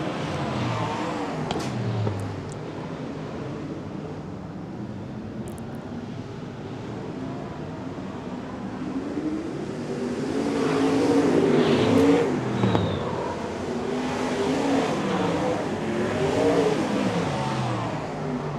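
Modified race cars at a Garage16 New Zealand Modifieds race in 2023, engines droning and revving continuously as the cars pass, swelling louder near the middle then staying busy, with no talk.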